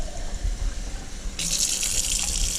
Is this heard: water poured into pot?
yes